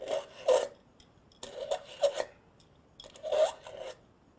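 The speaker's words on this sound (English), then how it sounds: "Place the sharpener flat on the surface, and then drag your knives 10 to 15 times from heel to toe consistently." A Cutco knife is drawn through a knife sharpener in three rasping strokes, each a gritty scrape heard up close against near silence.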